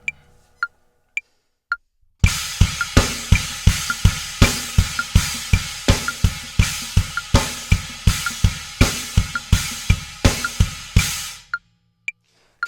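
Drum kit playing a 2 against 3 polyrhythm groove: a few count-in clicks, then steady interlocking hits that repeat evenly at close range for about nine seconds before stopping.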